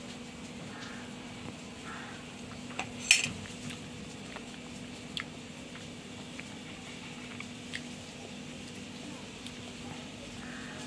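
A spoon clinks against a bowl while carrot halwa is tasted at home, a single sharp clink standing out near the middle with a few lighter taps around it over quiet room noise.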